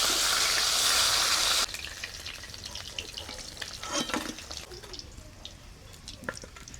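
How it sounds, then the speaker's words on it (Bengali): Snakehead fish frying in mustard oil in a wok: a loud burst of hissing sizzle that drops after a moment to a quieter, steady crackle with scattered pops, close by. "এবারে কড়ার মধ্যে কিছুটা সরিষার তেল দিয়ে মাছগুলোকে দুই সাইড লাল করে ভেজে নেব।"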